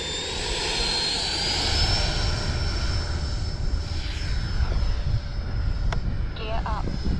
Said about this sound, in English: Motor is on, flying into the wind, and it's a decent wind, so I do not need takeoff flaps.